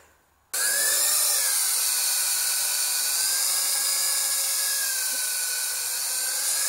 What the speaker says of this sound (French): Ah, donc un drone sans maintien d'altitude